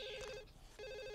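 Electronic telephone in The Sims: Bustin' Out rings in two bursts of steady trilling tone separated by a short gap, close and clear with no talk.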